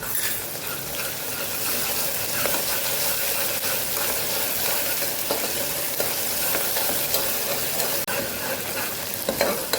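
Onions sautéing in a pan with ginger, garlic and chili paste, a steady loud sizzle and fry with occasional stirring scrapes, close and continuous without talk.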